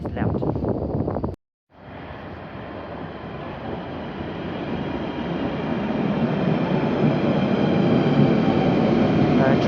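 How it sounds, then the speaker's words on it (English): A train rumbles in, its broad low roar building steadily louder, briefly cut by a moment of silence near the start. "our train's arriving"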